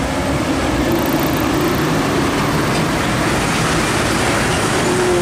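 An Isuzu dump truck hauling a trailer rolls past at close range on a steep, winding road, its loud, steady diesel drone and road noise filling the scene with no voices.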